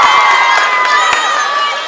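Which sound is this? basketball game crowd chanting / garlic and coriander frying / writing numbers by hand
basketball game crowd chanting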